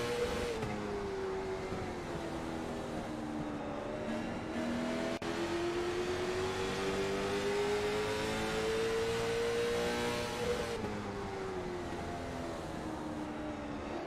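Late model stock car engine at Martinsville Speedway, a steady loud drone with throttle rising and falling through a fourteen-second stretch, other cars faintly underneath, no talking.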